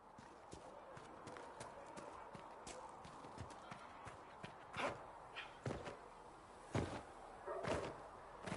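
Horse hooves clip-clop in the Dragon Age video game, a steady run of soft, close hoofbeats with a few heavier thuds and knocks breaking through later.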